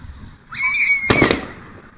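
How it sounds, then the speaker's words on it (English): A rising whistle is cut off by a loud, crackling firework burst. "We are experiencing the fireworks from beyond."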